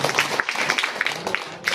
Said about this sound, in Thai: ก็ขอเสียงปรบมืออีกรอบ